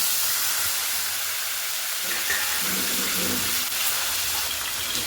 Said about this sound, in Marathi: तेल चांगलं तापलंय कडीपत्ता जास्तच टाकलाय इथं दोन टोमॅटो कट करून घेतल्यात हे पण लगेच टाक